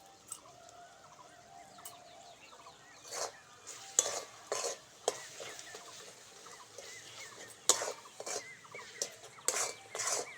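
Masala with a pinch of kasuri methi stirred and fried in a pan, oil separating, with scattered scraping spoon strokes and faint sizzle, quiet at first then clusters of sharper scrapes, no talking.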